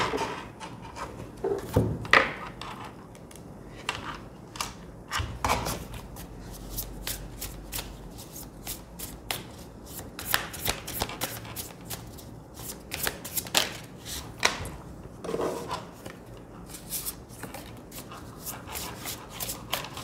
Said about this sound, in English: Let's shuffle that card.